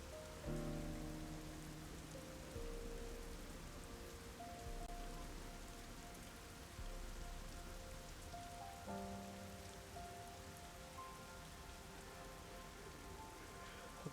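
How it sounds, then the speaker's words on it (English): Rain falls in the video game Rain Code, a steady, soft patter on surfaces beneath faint sustained musical tones. "We haven't heard that rain sound in a minute, huh?"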